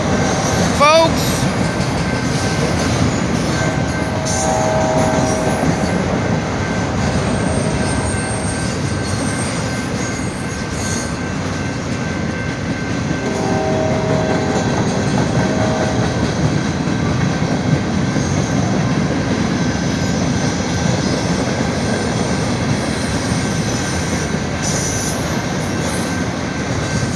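A Norfolk Southern train rolls through the Maumee Street railroad crossing, a steady loud rumble of rail cars with wheel squeal and clacking throughout, one crossing light out, and faint voices beneath.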